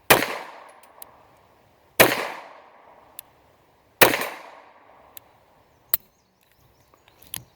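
Four sharp shots from an FN Browning 1910/23 .32 ACP pistol aimed at a 35-pound steel plate, spaced about two seconds apart, each loud crack decaying quickly, with faint metallic pings from the plate between them.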